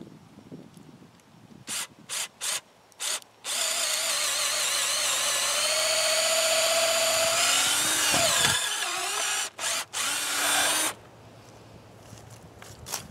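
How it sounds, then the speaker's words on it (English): A 3/8 inch long carbide drill bit bores through a wooden fence post, with several short bursts of the drill followed by a long, loud continuous run. The pitch wavers as the bit works through the wood, then more brief bursts follow. "I've got a 3/8 inch long carbide drill bit right here."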